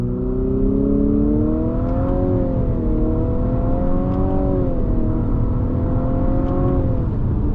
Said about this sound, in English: we're going to do another on throttle acceleration from a dead stop